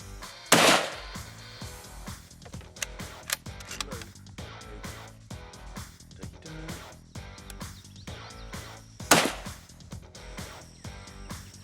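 Two sharp rifle shots ring out at a hog hunt, one near the start and one later, loud and close, with faint mechanical clicks and rustling in between.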